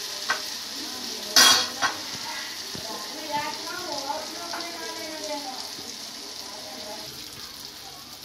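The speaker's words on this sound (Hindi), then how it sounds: "हमारा मसाला भुन चुका है" Spice masala for a pumpkin curry fries in a pan with a steady sizzle and scraping stirs, one loud clatter near the start, and faint talk in the background.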